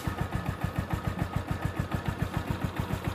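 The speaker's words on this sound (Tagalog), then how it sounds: "So yan po yung motor natin, Honda TMX Supremo." A Honda TMX Supremo motorcycle engine idles close by with a fast, even putter of regular pulses, steady and alone.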